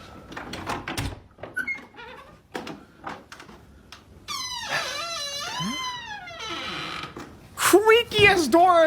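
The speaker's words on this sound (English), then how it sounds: "Creakiest door in history" A loud, drawn-out door creak with wavering squeals, preceded by scattered thumps and followed by short, sharp squeaks, heard up close.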